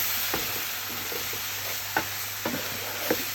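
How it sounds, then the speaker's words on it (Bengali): Turmeric and chili powder sizzle in a pan while being sautéed, a steady frying hiss broken by several sharp scrape-and-stir knocks of a spatula, close and clear with no talking. "এখন এগুলোকে আর একটু ভালোভাবে কষাবে।"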